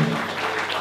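Congregation applause during a church service, a brief, dense burst of clapping filling the moment.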